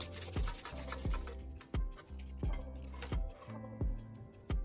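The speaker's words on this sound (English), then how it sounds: "I'm using the sandpaper again, this time to scrub the charred handle." Sandpaper scrubbing the charred handle of an old broken knife, close and steady, in rhythmic back-and-forth strokes about every half second, each ending in a sharp scrape.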